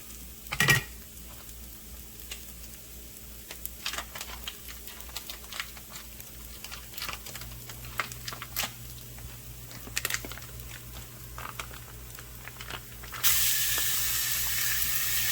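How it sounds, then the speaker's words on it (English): Soft steady sizzling and crackling of ground beef browning in a frying pan, with scattered clicks of a utensil stirring; a louder hiss swells near the end. "So right now we just brown the ground beef."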